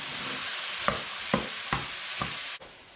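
Ground lamb sizzling in a pan for shepherd's pie as a utensil breaks it up, steady frying hiss punctuated by four soft scraping taps.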